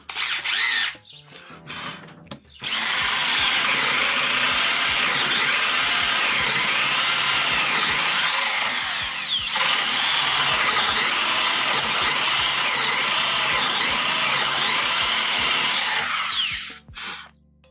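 An Intertool WT-0110 corded drill whines loudly and continuously as it bores a 24 mm hole into wood, its pitch wavering under load, with a brief pause and restart.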